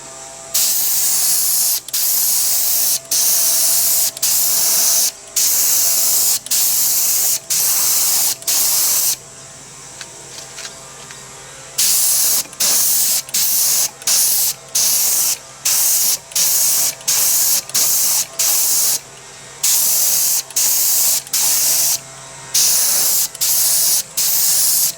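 Quick-drying finish is sprayed onto an Art Deco clock on a hot summer day as a second coat, in a series of loud, steady hissing bursts separated by short pauses, with a longer quiet gap midway through.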